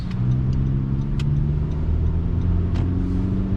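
Tuned 2020 Honda Civic Si driving slowly through snow in a low gear, engine braking: a steady, low, close engine drone with a few faint clicks over it and no voices.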